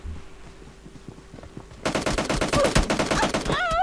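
Rapid automatic gunfire in a PUBG Mobile match: faint distant shots at first, then a loud, close burst of fast repeated fire that runs on steadily to the end.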